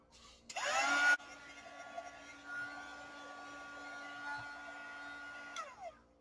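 A hair dryer blows on a painted snowman canvas to dry the paint. It starts with a loud, close burst, then settles into a steady, softer whirring hum that runs for several seconds before it cuts off.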